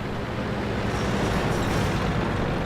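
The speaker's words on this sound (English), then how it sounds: "Dead Apple aims where he's going to be and takes him out with a side shot from the turret" A tank turret firing a side shot in World of Tanks: a continuous dense, rumbling boom and roar that stays loud across the whole moment, with no distinct onset and no talking.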